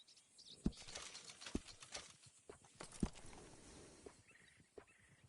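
Horse hooves clip-clop in Red Dead Redemption 2, a few distinct, fairly close hoof strikes spaced irregularly over quiet ambient game background.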